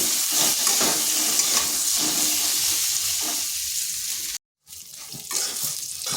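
Pointed gourd being stir-fried in a pan with salt and turmeric, a loud close sizzle with scraping stirring strokes, briefly cutting out before the frying hiss resumes.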